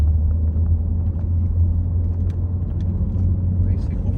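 Peugeot 508 car accelerating gently on the road, heard from inside the cabin as a steady low engine and road rumble, with a person talking over it.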